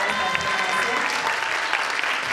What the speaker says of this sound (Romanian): vreau să îi aplaudăm pentru